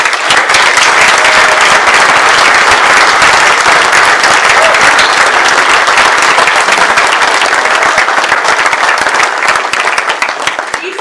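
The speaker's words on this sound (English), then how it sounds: "Please give them a round of applause." A gala audience gives loud, sustained applause, dense clapping from a large crowd filling the room for about ten seconds before it begins to taper off at the end.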